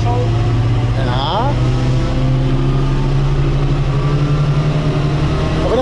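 An Opel Manta engine revs hard on a dynamometer in third gear, a loud sustained mechanical drone whose pitch sweeps upward early and then holds high, with a voice speaking over it.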